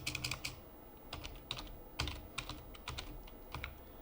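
Close computer keyboard typing of code in a Delphi programming lesson, irregular clusters of crisp key clicks with short gaps, alone without talk.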